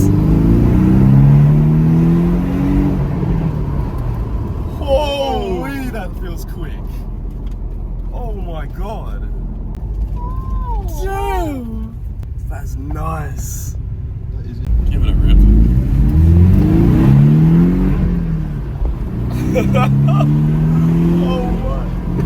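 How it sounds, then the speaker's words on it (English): A rebuilt Porsche Cayman S accelerates hard, engine roaring and rising through the gears with pops between shifts, heard from inside the car alongside talk from the people riding in it. "We're gonna hit a bit of acceleration here, mate."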